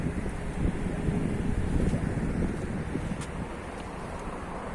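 Wind blows steadily outdoors at a large municipal garden market, rumbling and buffeting a nearby microphone in a continuous, fairly loud roar that eases slightly toward the end.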